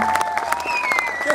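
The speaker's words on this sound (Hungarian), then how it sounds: "Hatalmas tapsot nekik." Crowd applause at an outdoor stunt show, a brief burst of scattered clapping with a voice over it.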